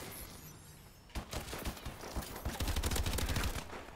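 Gunfire in the video game Call of Duty Advanced Warfare, quiet at first, then a burst of rapid, dense shots and impacts building in loudness over the last few seconds.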